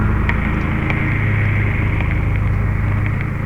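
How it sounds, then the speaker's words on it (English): A lawnmower engine drones steadily in the background at a camp in the early morning, a continuous low rumbling hum with broad hiss, moderately loud and unbroken throughout. "You can hear the wonderful lawnmower in the background."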